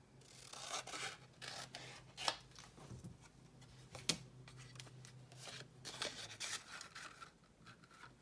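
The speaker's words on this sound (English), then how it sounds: "I'm gonna need to cut just a tiny bit off of the bottom to make it" Scissors snip a thin strip off the bottom edge of a handmade fall card, a series of close, crisp paper cuts and rustles with occasional sharper clicks, quiet and with no talking.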